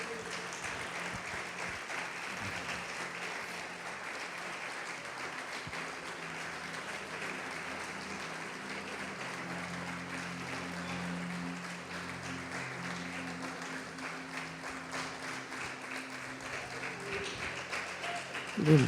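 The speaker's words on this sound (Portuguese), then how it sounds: "Pode aplaudir o Senhor Jesus e glorificar a Deus." A church congregation claps during a sermon, steady continuous applause from a large room that holds throughout with a low hum underneath and faint voices mixed in.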